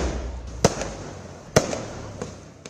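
Diwali fireworks and firecrackers explode at a distance: two sharp bangs about a second apart and a few fainter pops over a continuous low rumble of crackling.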